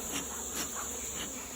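Honeybees from a flea-market colony being settled into a hive, a steady close insect hum holding throughout with slight swells, no voices.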